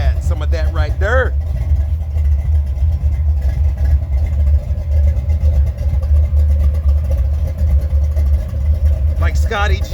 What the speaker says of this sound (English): I want to end this without that exhaust leak. Tick, tick, tick.